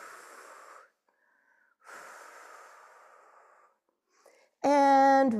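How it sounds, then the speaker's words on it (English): Slow, audible breaths during a yoga stretch for heart health, two long exhalations separated by pauses, close and fairly loud, followed by a brief tonal sound at the end. "And breathe."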